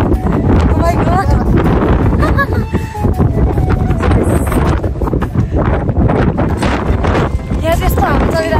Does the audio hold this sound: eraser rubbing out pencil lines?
no